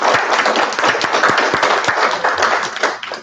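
Close, loud applause from an audience after a talk about downsizing to a smaller home, with many hands clapping in a dense, steady patter that tapers off slightly at the end.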